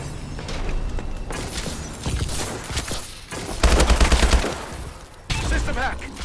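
Gunfire in a shooter video game, with bursts of rapid automatic shots and mechanical clatter, loud and near, separated by short lulls, with a voice talking briefly.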